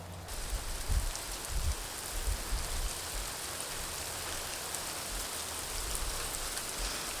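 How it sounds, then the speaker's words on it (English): Hail falls steadily outdoors in the countryside during a cloudy spring day, a dense, even hiss of pelting ice with faint low rumbles, no voices. "Yeah, it's hailing."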